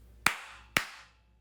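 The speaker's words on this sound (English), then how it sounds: "Hold on, I gotta see if my clap-on responds." Two sharp, loud hand claps about half a second apart, each with a short room tail, made to trigger a clap-on switch in a quiet indoor space.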